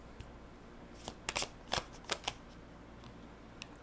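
Tarot cards being shuffled close by in a quiet room, a few quick riffling bursts and soft flicks spread over several seconds with no talking.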